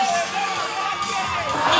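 A crowd at an outdoor lead climbing World Cup semi-final in Villars cheers and shouts steadily, a dense loud wash of voices swelling toward the end as a climber nears the top of the route.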